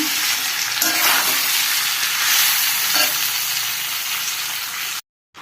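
Mango pickle cooking in mustard oil with dried chillies and sugar, a loud continuous sizzle and frying hiss with a few stirring scrapes, cutting off abruptly at the end.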